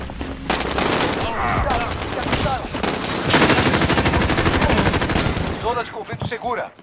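Rapid automatic gunfire from the Call of Duty Warzone video game, loud and dense bursts of shots that run almost without pause before thinning out near the end.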